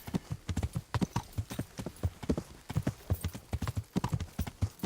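Horse hooves clip-clopping at a walk over a rough, steep path in the video game Kingdom Come: Deliverance, a steady close rhythm of hoof strikes continuing throughout with no talk.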